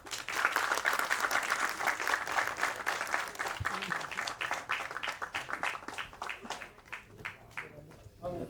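An audience at a Tamil film audio and trailer launch breaks into dense, lively applause that gradually thins into scattered individual claps, with voices faintly underneath.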